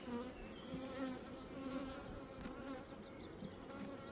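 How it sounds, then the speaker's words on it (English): Honeybees buzz at a hive in a continuous, close, quiet drone that wavers slightly in pitch as individual bees fly past. "as soon those bees exit."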